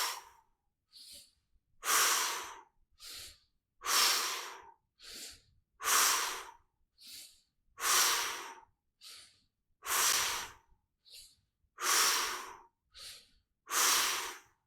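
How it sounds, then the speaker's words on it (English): Rapid, forceful breaths during a Kegel pelvic floor exercise routine, eight long loud exhalations alternating with shorter quick puffs in a steady pattern, close and alone with no talk. "If you wanted to do another round or two of that fast breathing with the Kegel exercises"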